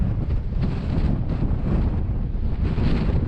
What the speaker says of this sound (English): this wind doesn't know when to stop